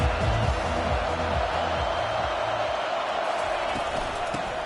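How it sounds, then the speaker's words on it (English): A steady, dense roar from a stadium crowd at a college football game fills the whole stretch, loud and unbroken, with a voice faintly audible beneath it. "This crowd trying to make life miserable for this offense."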